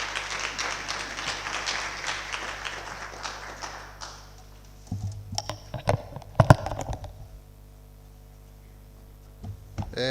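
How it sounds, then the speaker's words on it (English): An audience applauds at a law school inaugural hall of honour ceremony. The clapping is dense and fairly loud, then fades out after about four seconds, leaving a quiet room with scattered clicks and handling bumps. "Please give him a hand of applause."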